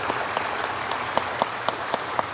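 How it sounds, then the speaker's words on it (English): An audience applauds staff at a college district event, a steady wash of clapping with a few sharper individual claps standing out, moderately distant and fairly soft throughout. "let's give them a round of applause for all of the work that they do on a daily basis"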